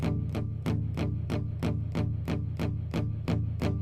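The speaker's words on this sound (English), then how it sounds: "When we palm mute, the open string should sound like this." Steady run of eleven palm-muted down strums on an open guitar string, each a short, damped, thumping chug repeating at an even quick rhythm, close and clear with no talk.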